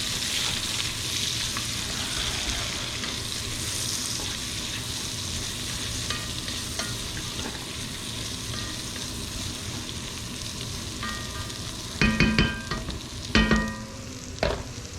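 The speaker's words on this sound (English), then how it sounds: "we're just gonna saute the onions and peppers" Onions and peppers sautéing in a pan for a meatball sub: a steady, close sizzle runs throughout, with a few sharp clinks of a utensil stirring near the end.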